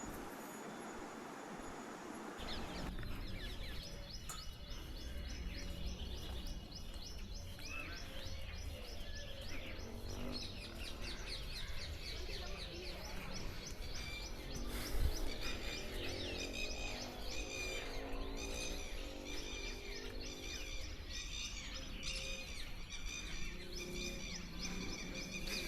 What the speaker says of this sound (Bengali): পাখিদের ডাক,